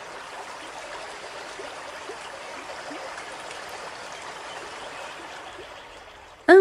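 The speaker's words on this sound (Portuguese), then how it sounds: "logo encontraram o rio que transbordava com a enchente" Flooded river flowing over its banks in a steady, even rush of water, continuous and fairly soft, heard alone before a brief sharp sound at the very end.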